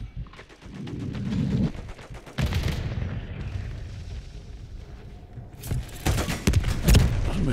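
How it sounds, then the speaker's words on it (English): Gunfire in a shooter video game featuring the Holger 556 assault rifle, dense bursts of rapid shots and booming impacts, loud and close, with a quieter stretch between heavy volleys. "Somebody shooting him from the behind."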